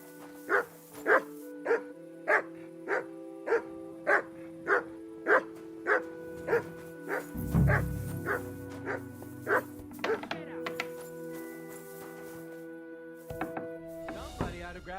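A dog in the medieval game Kingdom Come: Deliverance II lets out a regular series of sharp barks, evenly spaced and close, followed by a low rumble and softer game ambience.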